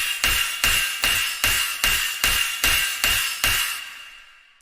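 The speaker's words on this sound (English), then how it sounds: "the tonal layer, which is a Serum preset with a lot of effects on it" A tonal synth layer from a Serum preset, heavily processed with effects, pulses in eight evenly spaced, punchy hits with a bright sustained tone, then trails off into a fading tail.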